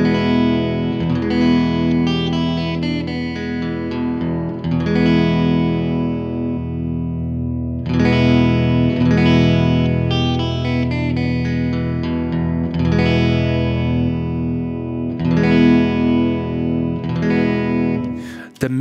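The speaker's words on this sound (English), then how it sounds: "then we actually hear the reverb properly" Electric guitar chords through a Strymon Flint reverb pedal ring out with a wide, lingering reverb tail, strummed in phrases with brief pauses, the wash sustaining between hits.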